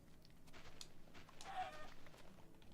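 Faint clucking of a chicken in a video game, a few soft distant clucks over low background noise, with no talking.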